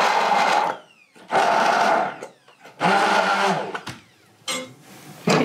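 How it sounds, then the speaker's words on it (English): An immersion blender whirs through potatoes in several loud bursts of a few seconds each, with short pauses between them. "I'll take my immersion blender to them and blend them up real good"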